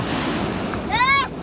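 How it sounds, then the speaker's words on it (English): Ocean waves surge in at a beach below Mount Cass in New Zealand at high tide, a steady wash of surf and wind noise, with a brief whistle-like tone rising near the end. "And that's one wave coming."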